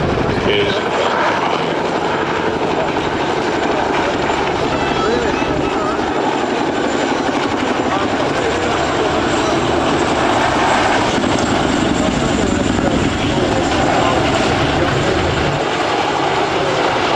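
A Royal Air Force Chinook twin-rotor helicopter flies at an airshow, its dense, steady engine roar and rotor rumble continuous and loud throughout, with a voice speaking over it.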